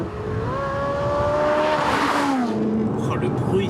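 A powerful sports car engine revs up loudly, its pitch climbing and then dropping as it accelerates, close and dominant, with a voice underneath.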